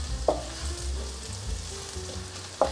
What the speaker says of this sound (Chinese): 这时候放入香菇，把香菇炒香